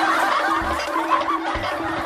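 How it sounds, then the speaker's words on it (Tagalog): Chickens clucking steadily around a rural yard, a busy cluster of fowl calls running throughout at moderate, close range. "Ayan po yung mga manok manok dito."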